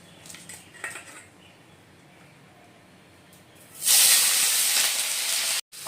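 Chopped onion dropped into hot white oil in a wok, bursting into a loud, sustained sizzling hiss that starts abruptly midway after a few faint kitchen clinks, then briefly cuts off near the end.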